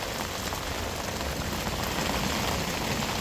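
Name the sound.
heavy rain from a thunderstorm on a campsite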